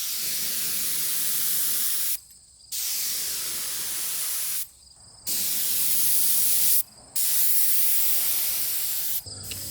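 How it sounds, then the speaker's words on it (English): A spray gun lays tinted polyurethane finish onto a vanity cabinet, a steady loud hiss in four long bursts separated by brief pauses when the trigger is released, close up and without talking. "one benefit of spraying is that it goes on real thin"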